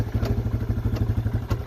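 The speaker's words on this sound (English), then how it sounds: "1st gear, you can hear how it's idling." A rebuilt Yamaha Wolverine ATV engine idles in first gear with a steady, even low chugging pulse, close and moderately loud, with no talk.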